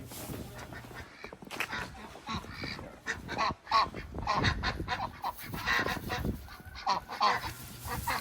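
Ducks and chickens at feeding time with scratch grain in the snow, a busy flock giving repeated loud honking quacks and squawks close by in overlapping bursts.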